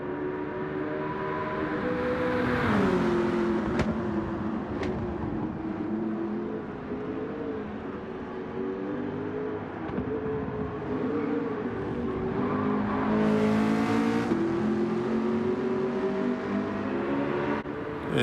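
Race car engine in Gran Turismo 7, a sustained loud whine of a high-revving engine that rises and falls with shifts and corners, steady throughout with no voices.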